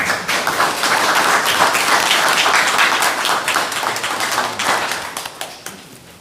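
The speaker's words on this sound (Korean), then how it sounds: "큰 박수로 아티스트 토크를 환영해 주시면 고맙습니다." An audience claps at an artist talk in the Hampyeong County Museum of Art, a dense, steady round of applause that swells and then tapers off near the end.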